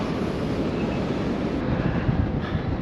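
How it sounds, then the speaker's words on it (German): Steady, heavy wind on a ship's deck buffets the microphone throughout, a broad continuous roar with no voices. "Also ziemlich windig ist auf dem Schiff"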